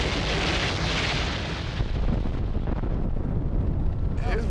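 Large building fire flaring up after a roof collapse, a loud continuous roaring rush with wind buffeting, heard from a distance with no clear voices.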